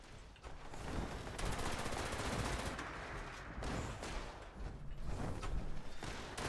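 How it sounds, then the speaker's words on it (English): Turrets in Fallout 76 fire rapid bursts of automatic gunfire, dense and continuous with repeated clattering volleys over a dull background rumble, with no voices heard. "my turrets are already doing their job"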